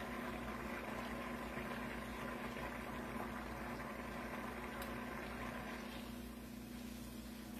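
An egg roll frying in a pan while pressed flat with a spatula gives a steady, fairly quiet broad sizzle with a constant low hum beneath, continuing evenly throughout without talk.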